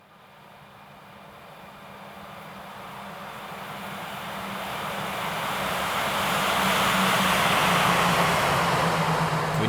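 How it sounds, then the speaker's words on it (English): Steady airliner engine roar from an Airbus A321neo in the X-Plane 11 flight simulator, swelling gradually louder and brighter over the span with a low rumble beneath, no voices. "I want you guys to hear the sounds of this plane."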